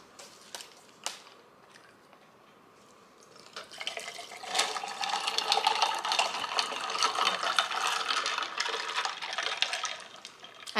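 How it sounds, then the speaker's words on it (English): Green tea poured into a glass full of ice, starting with a few scattered clinks before a steady, fairly loud pour of liquid with ice rattling and jiggling in the glass, close and with no talk. "I'm gonna pour some green tea in here."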